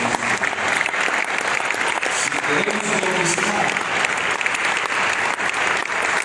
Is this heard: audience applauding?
yes